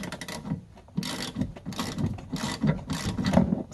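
A ratchet loosens the nut on a windshield wiper arm of a 2007 Chevy HD 2500, clicking in a series of repeated strokes, close and fairly loud, with no talking.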